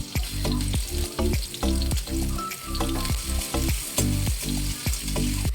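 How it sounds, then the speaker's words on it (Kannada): Chopped onion sizzles loudly in oil in a kadai, the frying hiss broken by regular rhythmic scrapes and clanks of a spatula stirring, close up with no voices. "ಒಂದು ಕಡಾಯಿಯನ್ನು ಇಟ್ಟು ಅದಕ್ಕೆ ಸ್ವಲ್ಪ ಎಣ್ಣೆಯನ್ನು ಹಾಕಿ ಈರುಳ್ಳಿಯನ್ನು ಹಾಕಿ ಫ್ರೈ ಮಾಡ್ಕೋತೀನಿ"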